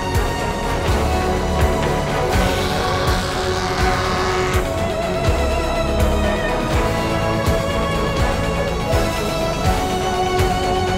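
A BMW M3 accelerates hard in a loud, sustained engine roar with tire squeal and rising revs, the car close by throughout.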